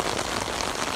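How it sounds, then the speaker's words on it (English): Heavy rain pouring down in a park, a dense, steady hiss of drops hitting surfaces, loud and continuous with no voices. "we have a lot of rain now"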